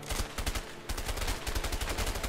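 Rapid automatic gunfire from the video game A Way Out, dense sharp bursts rattling in quick succession with barely a pause, loud and continuous throughout.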